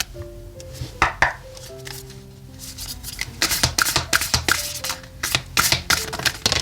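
Tarot and oracle cards being shuffled in a series of crisp riffling and slapping bursts. Faint tones ring briefly beneath, and no one speaks.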